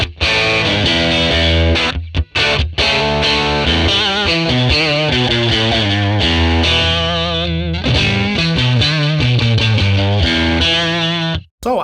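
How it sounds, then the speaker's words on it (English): A Stratocaster plays continuous crunchy, distorted electric guitar chords and single-note lines through a jumpered 1957 Tweed Bassman ToneX model, dry without reverb, loud and sustained with only brief gaps. "Since we're having the Strat in the hands, let's try the crunch balanced without any reverb."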